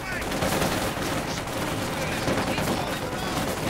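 Dense, continuous gunfire from Company of Heroes 2, a World War II strategy game, with rapid overlapping machine-gun bursts and rifle shots forming a loud, unbroken barrage during a 2v2 match.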